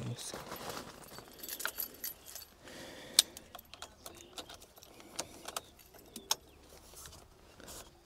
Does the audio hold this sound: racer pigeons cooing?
no